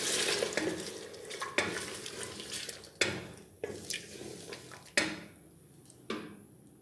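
Mutton is stirred and fried in a pot with yogurt and lemon juice, a steady sizzle broken by repeated scraping strokes of the spoon every second or so, close and fairly quiet.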